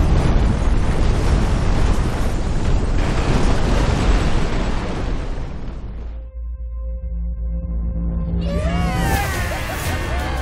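Amusement ride blowing up in ScreamRide: a massive roaring blast rumbles loudly for about six seconds, then cuts to a tonal hum and rising whooshes of debris or effects.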